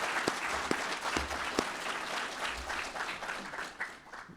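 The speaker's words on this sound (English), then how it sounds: "how about a big round of applause for basic recruit classes 602 and" A crowd of family and co-workers gives a big round of applause for basic recruit classes 602 and 603 at a corrections ceremony, dense sustained clapping with a few sharp nearby claps standing out, fading slightly at the end.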